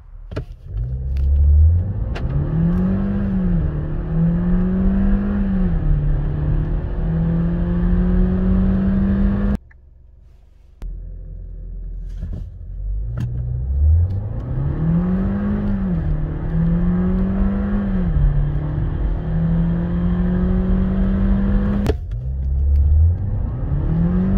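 A Skoda Fabia Monte Carlo's 150 hp 1.5 TSI engine revs up hard through the gears, its pitch climbing and dropping at each shift, loud and close, repeating in two full acceleration runs.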